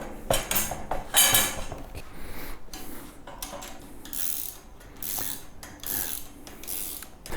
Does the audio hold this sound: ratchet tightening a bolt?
yes